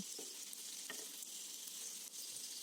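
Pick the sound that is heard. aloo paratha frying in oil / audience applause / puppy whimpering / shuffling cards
aloo paratha frying in oil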